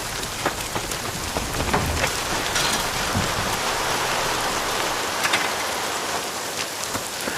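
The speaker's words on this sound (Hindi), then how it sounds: "अरे, और अब बारिश हो रही है।" Steady rain patters on surfaces, dense and continuous hiss with scattered louder drops, fairly close, and no voices.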